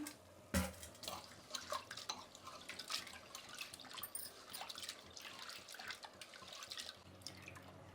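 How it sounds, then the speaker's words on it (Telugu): Toor dal lentils are rinsed by hand under a running tap, giving a steady close splash and trickle of water with scattered drips and swishes, one sharp knock near the start, and no voices. "ఇప్పుడు పప్పును బాగా కడుక్కునేద్దాం."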